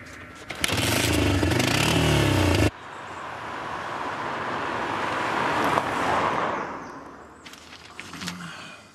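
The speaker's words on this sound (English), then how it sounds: "I know to ride a quad bike." A quad bike engine running near a barn, a loud close burst at first, then a steadier engine drone that fades away, with a brief rev near the end.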